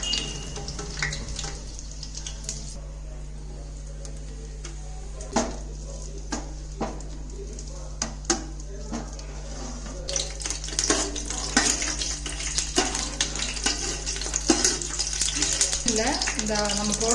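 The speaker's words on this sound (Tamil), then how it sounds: "அந்த மசாலா பொருள்லாம் கொஞ்சம் ஃப்ரை ஆகணுங்க" Whole spices such as cardamom, bay leaf, cinnamon, cloves and star anise frying in hot oil for mutton dum biryani, a steady sizzle with clinks of pots and utensils, growing busier and louder in the second half.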